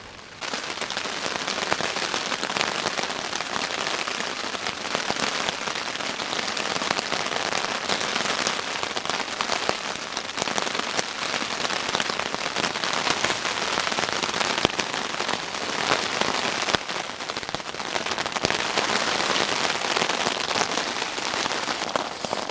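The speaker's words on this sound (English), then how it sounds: "Wouldn't fancy putting a tarp up in this rain." Heavy rain pours steadily onto a camping shelter under a giant umbrella, a dense, continuous hiss and patter close by, unbroken and loud throughout with no talk.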